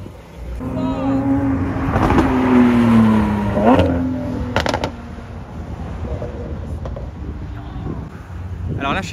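A Lamborghini Aventador SVJ engine at the Gumball 3000 roars nearby, its pitch climbing and dropping through a hard rev, then fading into wind and crowd noise.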